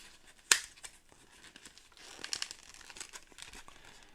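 Plastic wrapping of a Marvel Champions hero pack (Fantasy Flight Games card game) is crinkled and torn open, starting with one sharp rip followed by scattered close crackles and rustles, no talking.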